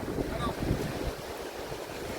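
A strong, fast-flowing water current rushes steadily close by, producing a dense, continuous roar mixed with wind buffeting the microphone, with no pauses.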